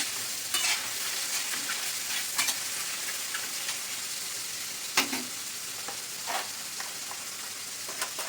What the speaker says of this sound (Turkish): Şimdi biberlerimi böyle kattım, Onları biraz daha kavuracağım bu şekilde.